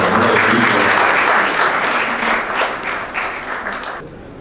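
An audience at an Independence Day and academy anniversary celebration in India bursts into loud applause, dense clapping that gradually thins out and fades over a few seconds.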